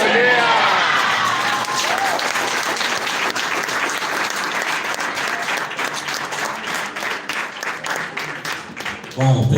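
An audience at a recognition event applauds loudly and densely at first, then the clapping thins into a lighter, more scattered patter before a brief burst at the end.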